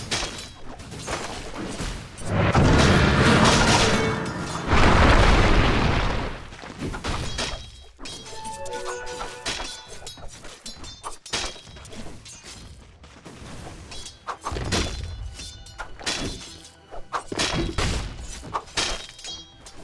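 A Dota 2 match erupts into a tower attack, with loud crashing, shattering impacts and rapid volleys of thuds that surge in dense waves and then scatter into smaller hits.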